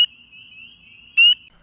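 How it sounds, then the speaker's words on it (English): Spring peeper frog calling in spring, a loud, clear, close high-pitched peep with a long thin sustained tone between two sharp bursts. "Spring peepers can be heard up to 1 kilometer from where they're located, and they're named after the peep sound that they make during mating season."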